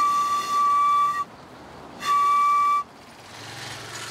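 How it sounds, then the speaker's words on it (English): An emergency whistle made from an oyster-bed pipe gives two shrill, steady blasts at the same pitch. The first lasts about a second and the second is slightly shorter, with a short quiet gap between them. "So I'll take it home and make a whistle out of it for emergencies."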